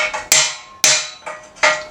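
Hammer blows on a stubborn metal bearing race, worked around its edge: four sharp, ringing metallic strikes in about two seconds, loud and close, each decaying quickly before the next.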